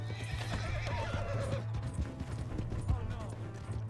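Horse whinnying and hooves clip-clopping in the Red Dead Redemption 2 video game, a rising neigh over steady hoofbeats with a low rumble beneath, game dialogue mixed in.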